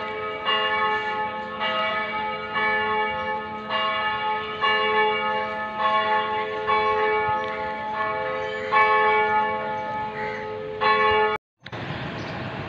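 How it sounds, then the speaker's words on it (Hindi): A large church bell at Holy Family Hospital tolls repeatedly for Sunday worship in a slow, steady rhythm, each deep strike ringing out and overlapping the last, fairly close and loud. "ये बहुत बड़ा घंटा है, तो ये उसकी आवाज़ आ रही है।"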